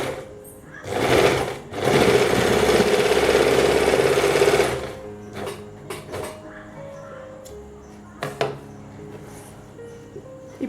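A sewing machine runs in a steady whirring burst for a few seconds while stitching a saree petticoat, then stops, leaving quieter handling clicks and a brief later spurt.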